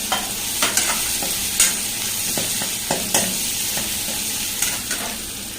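Tomatoes fry in a pan for a fish curry, with a continuous sizzle and irregular spatula scrapes and taps breaking through every second or so, close by with no talking.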